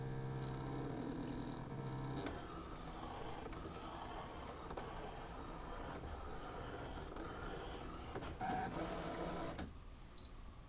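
A Brother ScanNCut DX runs steadily while cutting a fabric flower appliqué, its carriage whirring and shuttling close by with abrupt shifts in motor tone and a short beep near the end.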